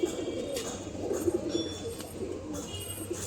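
Pigeons coo in a loft, low throaty rolls repeating close and steady with brief gaps between them.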